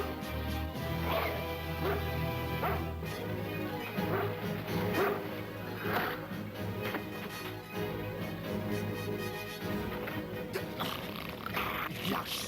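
A dog yips and whimpers in short bursts while an action scene carries on underneath, with a steady low rumble and other noise throughout.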